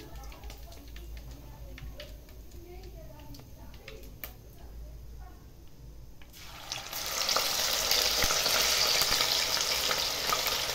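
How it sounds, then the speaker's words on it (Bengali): Bengali-style chicken sauté frying in oil, with a quiet stretch of light clicks and low murmuring talk before a loud, steady broadband sizzle surges up about halfway through and holds to the end. "এভাবে আমি সবগুলো চিকেন সতে ফ্রাই করে নেব।"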